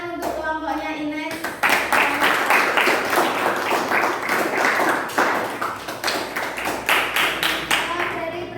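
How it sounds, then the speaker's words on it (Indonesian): Classroom applause for a student group led by Ines after their presentation, a burst of small-room clapping starting around the two-second mark and running steadily to the end, with the teacher's voice heard briefly before it. "Tepuk tangan untuk kelompoknya Ines"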